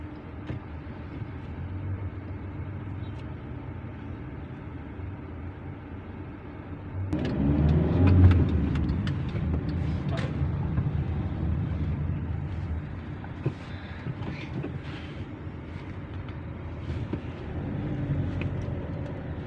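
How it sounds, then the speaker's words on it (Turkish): Urban road traffic through busy city junctions: a low, steady hum of engines that swells as vehicles pass close by about a third of the way in, then settles into ongoing rumble with scattered clicks. "Trafik biraz yoğun."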